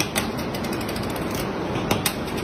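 Rapid light metallic clicks and ticks as a gold ring is tapped, several sharp taps close up over a steady background hiss.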